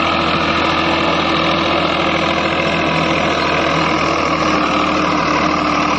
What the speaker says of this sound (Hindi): आप ये देखो ट्रैक्टर 12-13 की स्पीड पे चल रहा।